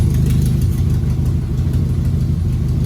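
A Ford Ranger with a loud, cheap custom exhaust runs steadily up close, its deep throbbing idle pulsing continuously with a slight rev, no voices over it.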